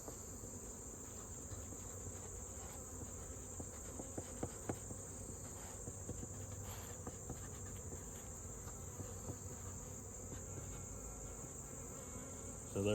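Honey bees hum around opened hives during a late-summer evening inspection, a dense, steady buzz with a few faint knocks of hive handling mixed in, and no voices.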